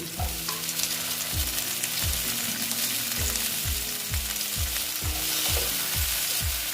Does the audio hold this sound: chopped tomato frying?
yes